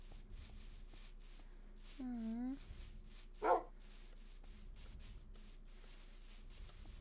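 Two short game sounds from a Minecraft dog episode stand out over faint background noise: a brief bark with a sweeping tone, then a sharp high yip about a second later.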